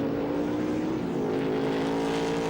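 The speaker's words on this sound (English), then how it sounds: "it's got a completely different exhaust note to it to any other car that's here, and certainly to any other Falcon that's here" Ford Falcon touring car racing at Bathurst in 1994, a loud, steady exhaust note droning continuously at close range with sustained engine tone and no speech.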